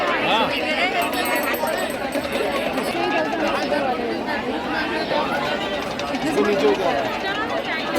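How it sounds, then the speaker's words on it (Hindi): Dense murmuring of a devotee crowd inside the Kaal Bhairav temple in Ujjain fills the scene, continuous and close, with scattered voices and brief metallic jingles riding on top. "बस यही भीड़ है।"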